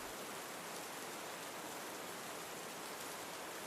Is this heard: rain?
yes